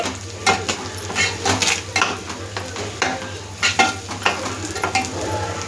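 Squid and prawns fry in oil with chili powder and garam masala, the oil spattering in a busy sizzle broken by repeated sharp pops and utensil scrapes, close and fairly loud.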